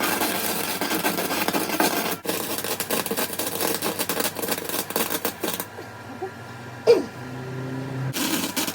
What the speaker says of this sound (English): I'm going to try and do some welding, so to speak.